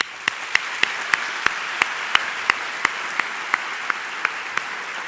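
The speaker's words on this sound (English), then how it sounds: "Please join me in a round of applause for the accomplishments for all of our students." Audience applauding at a university convocation ceremony, a steady wash of clapping with sharper individual claps standing out, sustained and fairly even throughout.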